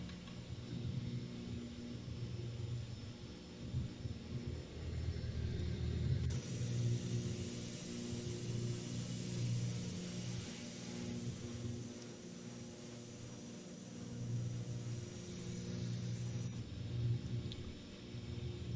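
An aircraft engine in the X-Plane 11 flight simulator, set to fail at speed, gives a steady low droning rumble throughout, with a thin high whine that joins midway and later drops out.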